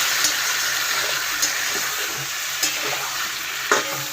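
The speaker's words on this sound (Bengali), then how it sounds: "এবার এই জলটা আমি একটু দিয়ে দেবো, দিয়ে আবার যেরকম নাড়াচাড়া করা, এরকম নাড়াচাড়াই করবো" Curry being stirred in an oily pan just after water is added, with a steady wet sizzle and several soft scraping strokes of the spoon at irregular intervals, no voices.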